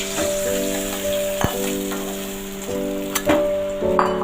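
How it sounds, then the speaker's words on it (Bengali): Fish fries in hot oil in a pan, a steady close sizzle with faint sharp ticks and pops scattered through it, and an even steady tone running underneath. "মাছটা লাল করে আমি ভেজে নেব।"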